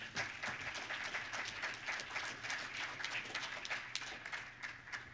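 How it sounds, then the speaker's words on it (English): An audience at a closing ceremony gives a round of applause, a steady, fairly distant wash of clapping from many hands that runs for about five seconds. "Give yourselves a round of applause."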